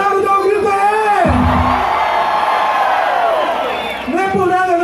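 A large political rally crowd in Juiz de Fora, Brazil, roars with sustained shouting and cheering for several seconds, loud and close, with a voice on the microphone at the start and end.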